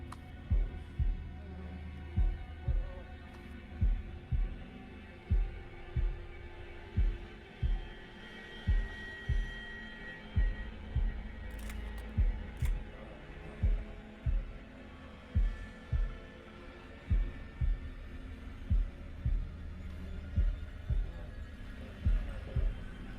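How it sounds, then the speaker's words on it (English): Slow, regular heartbeat thumps from the horror video game Man of Medan, about one pulse per second, deep and prominent over a low droning hum, with no talking. "Press S in time with the heartbeat."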